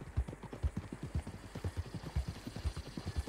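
Horse hooves clip-clop in a steady, brisk rhythm in Red Dead Redemption 2, each strike close and distinct, repeating evenly throughout at moderate volume.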